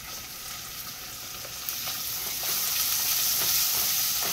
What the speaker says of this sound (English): I don't let the garlic cook too long, because it gets bitter.